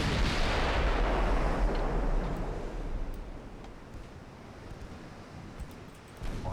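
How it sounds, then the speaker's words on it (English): Battlecruiser guns fire in the Ultimate Admiral Dreadnoughts naval game, fighting in fog: a loud booming blast opens, then a long rumbling roar slowly fades under faint ticking. "Battle cruiser guns keep roaring."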